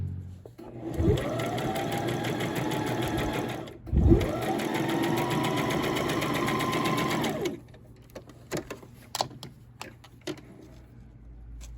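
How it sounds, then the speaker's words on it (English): Sewing machine stitching the shoulder seams of a jogger top from the neckline out, two sustained close runs of fast motor hum broken by a brief pause, then quiet handling clicks and rustles. "I want to make sure I'm stitching from the neckline out"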